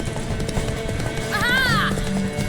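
Hooves of a horse gallop in the video game Witcher 3 in a rapid, loud clip-clop rhythm, with a high whinny near the end and a voice speaking over it.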